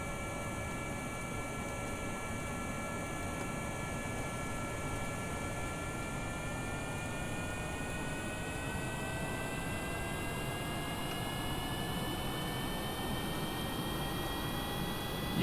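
Rotorcraft engine in the video game Kerbal Space Program, a steady droning whine with several tones slowly rising in pitch as the rotor spins up, continuous and fairly quiet with no talk.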